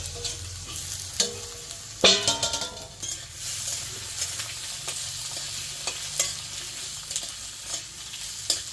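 Potatoes hitting hot oil in a wok give a close, continuous sizzle, with sharp scraping and stirring clicks scattered throughout.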